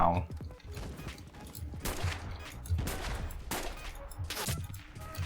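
Gunfire in the World War II shooter game Enlisted comes as repeated bursts of shots at mid distance, clattering over a steady battle rumble.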